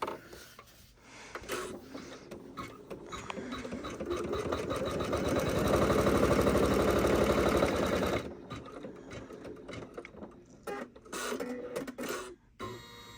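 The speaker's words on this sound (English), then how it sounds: "We're going to run step 18, which is going to be our placement stitch to tell us where to put our squares." An embroidery machine runs a placement stitch for an in-the-hoop appliqué bag, a rapid mechanical needle chatter that builds to a steady loud whir for several seconds, then breaks into short stop-start bursts.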